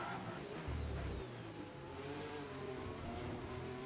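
Formula 1 race car engine in the F1 25 racing game, a steady high-revving drone with gear-shift pitch sweeps and a brief tire scrub, continuous and fairly loud with no talk.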